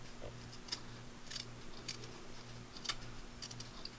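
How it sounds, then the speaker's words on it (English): Scissors trimming fabric scraps along a cardboard edge give quiet, crisp snips spaced about half a second apart, faint and close. "take your scissors, using the edge of your cardboard as a guide, you're going to just trim all those little bits and pieces away."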